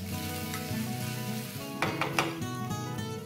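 Fenugreek leaves sautéing in a pan, a steady close sizzle with a few sharp stirring scrapes near the end, no voices.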